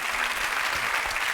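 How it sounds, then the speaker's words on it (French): Studio audience on a French game show applauding, a dense, steady wash of many hands clapping at moderate level with no break. "Je voudrais qu'on les applaudisse"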